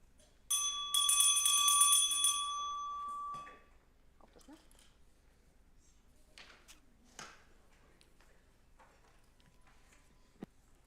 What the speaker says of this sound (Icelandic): nú ætla ég að hringja inn